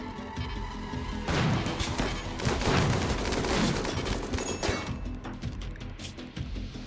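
Gunfire in RimWorld as deserters fight: a dense, loud fusillade of rapid shots and crashes that swells in the middle and thins toward the end, with no talk.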